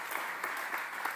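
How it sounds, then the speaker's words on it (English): Dense audience applause at an innovation festival session, a continuous wash of many hands clapping close and loud for the whole moment. "I want to clap for you."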